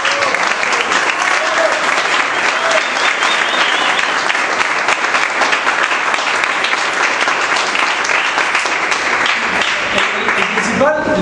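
Sustained, loud applause from an audience at a squash tournament awards ceremony in Córdoba, dense steady clapping throughout with some voices mixed in.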